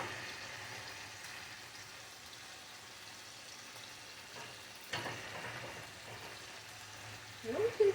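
Cabbage and other vegetables, leeks among them, fry quietly in a pan for curry chicken and rice. A soft, even sizzle is broken by a clatter near the middle and a louder stir or addition at the end.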